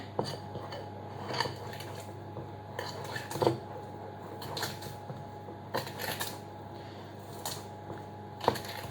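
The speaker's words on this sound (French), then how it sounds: "Donc je remue bien." Vegan chocolate moelleux batter stirred in a bowl, thick mixture giving soft scraping and occasional clinks of the utensil against the bowl in an irregular rhythm, fairly quiet and close.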